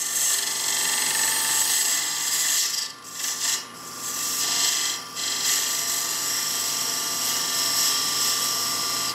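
A wood lathe turns a piece while a tool cuts a tenon, giving a steady, high-pitched scraping and rasping hiss, briefly broken by a few short dips as the tool lifts off the wood, with no talking.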